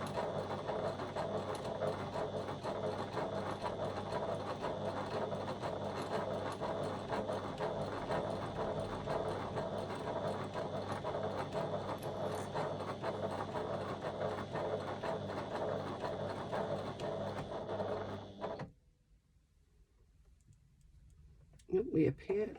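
A sewing machine backstitches with a steady, rapid mechanical whirr and clatter that runs continuously, then stops abruptly, leaving near silence before a few faint knocks.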